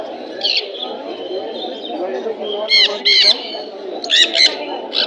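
Pigeons at a busy bird market in Mirpur, Bangladesh: soft cooing and sharp repeated chirps from several birds over a steady murmur of crowd and market noise, moderately close.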